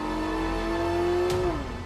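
Ford twin-turbocharged 3.5-litre EcoBoost V6 race car at Le Mans, producing about 650 horsepower, holds a steady droning engine note that climbs slightly and then drops away, loud and close with no talk.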